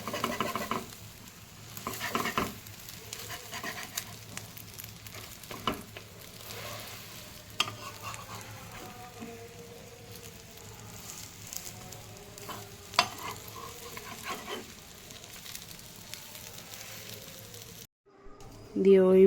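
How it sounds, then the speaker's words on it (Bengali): Egg pieces fry in a pan, giving a steady close sizzle with intermittent scraping and clicking as a utensil stirs them, while a voice talks quietly underneath. "লাল করে ভাজতে হবে।"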